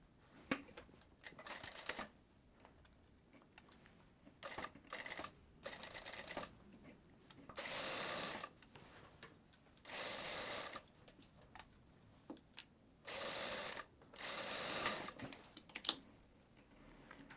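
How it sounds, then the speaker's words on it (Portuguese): Sewing machine stitching the second side of a zipper onto a skirt: repeated short bursts of quiet mechanical whirring and clatter separated by pauses, close by with no talk. "E eu venho agora costurando, aplicando o outro lado do zíper aqui na minha saia."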